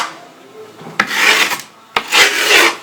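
Coarse rasping scrapes as the edge of skateboard grip tape is rubbed, two loud, close strokes each lasting under a second, with no talk over them.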